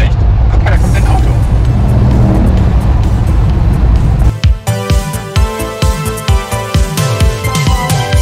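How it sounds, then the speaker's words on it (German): A car approaches and passes close by, its engine rumble building to a loud pass and then dropping away, with people talking underneath. "Guck mal, da kommt ein Auto."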